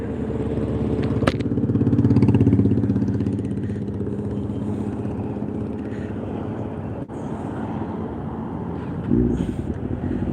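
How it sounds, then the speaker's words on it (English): A motorcycle rides alongside cyclists during a weekend bike race, its engine a steady close drone mixed with wind and road noise, with a brief sharp knock and a swell of passing traffic. "Back on the motorcycle, the Zoom Zoom."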